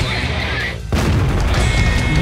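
An artillery shell bursts in a tank battle video game with one loud, sudden boom that cuts in over steady game noise, then rolls on as a dense, lingering rumble.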